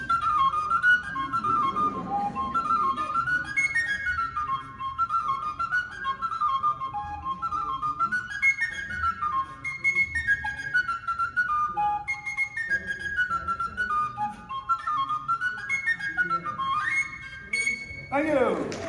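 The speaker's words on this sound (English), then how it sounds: "Or is it the Irish tin whistle?" An Irish tin whistle plays a lively, bright jig melody up close at an international conference, with quick ornamented notes running continuously and a sharp burst of noise right at the end.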